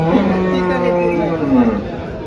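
A cow moos long and loud at the Dhule cattle market, a drawn-out bellow that slides down in pitch, with crowd chatter in the background.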